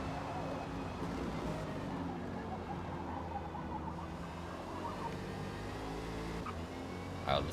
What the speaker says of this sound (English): this car is super quiet